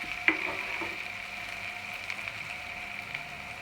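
Onions and garlic cook in a soup pot with a steady, low sizzle, an occasional soft scrape of stirring near the start, and no talking.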